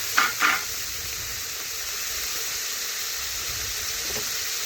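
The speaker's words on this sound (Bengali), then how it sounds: "সেই পনিরগুলো এখন কড়ার মধ্যে দিয়ে দিচ্ছি। দিয়ে লাল লাল করে ভেজে নেব।" Salted paneer pieces fry in oil in a kadai, a steady loud sizzle throughout, with a couple of brief stirring scrapes at the start and another faint one near the end, and no talk.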